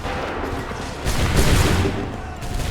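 A musket volley fired by a line of soldiers in Assassin's Creed III Remastered at the Battle of Lexington and Concord, a dense rolling crackle of shots that swells midway over steady battle noise.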